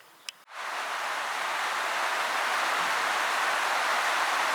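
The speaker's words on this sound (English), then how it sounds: "So just have to excuse the rain" Outdoors, rain falls during work on a kayak roof rack. After a brief quiet moment with a small tap, a loud, close, unbroken wash of rain noise takes over and stays constant.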